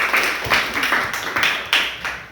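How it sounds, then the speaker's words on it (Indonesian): A school class gives a student a short round of applause after a presentation in a lesson, a few loud rhythmic bursts of clapping close by, nearly in unison. "Tepuk tangan untuk adik."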